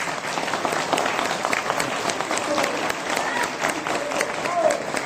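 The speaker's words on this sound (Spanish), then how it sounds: "un aplauso por favor a Miyuki" An audience applauds a speaker at a talk on glyphosate in Mexican agriculture, a steady, moderately loud patter of many hands clapping, with voices heard over it.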